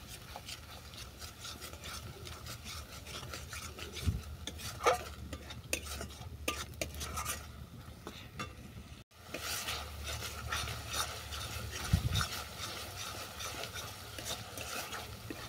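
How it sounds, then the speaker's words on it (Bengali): Spice paste (masala) being stirred and fried for a hilsa fish curry with gandal leaves, heard as steady scraping and rubbing of a spatula in the pan, with a low hum underneath and a few sharper knocks, and no talking. "মশলাটাকে ভালো করে কষিয়ে নেব।"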